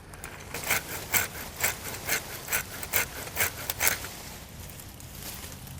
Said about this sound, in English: This is just a pruning saw.